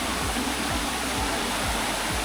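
A small waterfall at Kiriwong Village in Nakhon Si Thammarat, Thailand: a steady, dense roar of falling, rushing water, loud and close, with no breaks.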